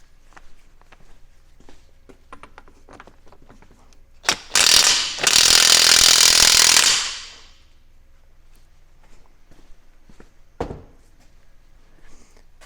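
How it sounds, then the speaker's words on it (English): An impact wrench tightens a bolt on an NP205 transfer case from a 1980 Chevy truck, letting out one loud, close, rattling burst of about two seconds amid faint workshop clatter. "I might just hammer it down with my big old impact here"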